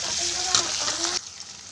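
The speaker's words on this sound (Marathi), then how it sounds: "आपल्याला ह्यामध्ये टमाटर ऍड करून घ्यायचे आणि छान मिक्स करून घ्यायचं आहे" Tomatoes stirred into a sizzling rice mixture in a hot pan, a steady broadband fry with a few soft scraping stirs, close and moderately loud, the sizzle dropping off sharply near the end.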